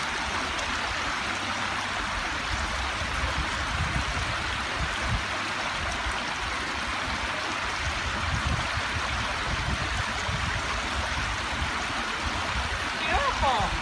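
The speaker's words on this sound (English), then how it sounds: "Little trickle" A small trickle of water runs down a stream outdoors, making a continuous broadband rush and gurgle, with faint talk in the background.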